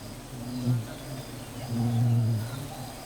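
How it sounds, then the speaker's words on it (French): Giant Himalayan bees swarm in the Sundarbans mangrove forest, a steady low droning buzz that swells twice, loudest near the end, with no other sounds over it. "les abeilles géantes d'Himalaya sont revenues"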